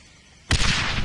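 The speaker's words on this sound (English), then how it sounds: "These are standard issue stick grenades. Just aim and let them fly." Stick grenade blast in the First World War shooter Darkest of Days: one sudden loud burst with a deep thump, then a rumbling, crackling roar that sustains to the end without fading.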